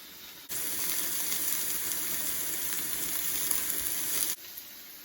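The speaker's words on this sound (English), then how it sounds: "Let's give these steaks a few minutes to cook up." Steaks frying in a pan on a stove in a tiny cabin give off a steady, loud sizzle that starts abruptly, holds evenly for about four seconds, then cuts off.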